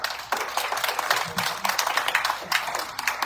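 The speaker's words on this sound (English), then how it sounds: "Gentlemen, let's give them a round of applause" A small audience at a Chamber of Commerce candidate forum for a 2026 primary claps in uneven bursts after a candidate's statement, the applause fairly close and swelling and easing in waves, with faint voices mixed in.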